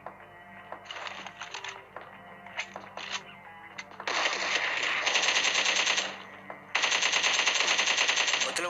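Uzi submachine gun fire in a competitive video game match sounds as rapid automatic bursts, short crackling volleys at first, then two longer sustained streams of loud fire.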